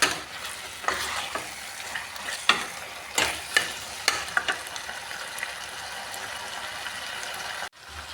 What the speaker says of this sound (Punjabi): ਇਸ ਨੂੰ ਚੰਗੀ ਤਰ੍ਹਾਂ ਮਿਕਸ ਕਰ ਲਾਂਗੇ